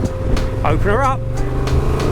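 A Honda Transalp XL750 motorcycle engine revs up and accelerates, a steady close drone that climbs in pitch, with a person talking over it.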